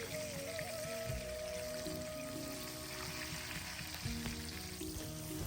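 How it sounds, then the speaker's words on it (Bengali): Hilsa fish frying in a pan, a steady close sizzle with crackling oil that runs unbroken throughout, with no voices. "আর সাথে ইলিশ মাছ ভাজা করছি"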